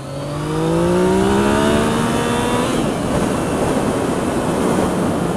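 A Yamaha MT-09 motorcycle pulls away hard on a test ride, its engine note climbing in rising sweeps through the gears, then settling into a loud, steady roar with heavy wind rush.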